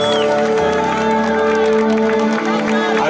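Guests cheer and applaud loudly at a husband's birthday celebration in Guarulhos, a dense, steady roar of clapping, whoops and shouting voices filling the whole moment.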